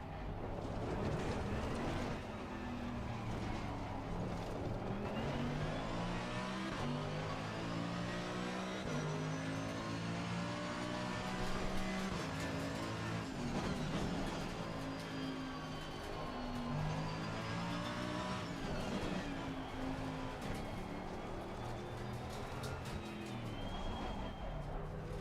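Car engine revving continuously in a driving video game with a Mercedes AMG, a loud sustained drone with rising and falling pitch sweeps as the car accelerates and shifts through gears.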